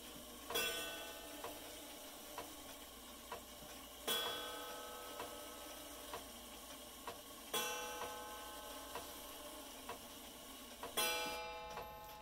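An Alaron mechanical clock ticks steadily and evenly, close and fairly quiet, while every few seconds a heavier stroke rings out and slowly fades over the ticking.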